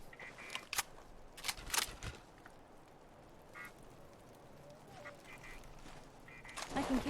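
A bird calls in the video game Fallout 4, several sharp squawks near the start, then quieter calls over a steady outdoor ambience.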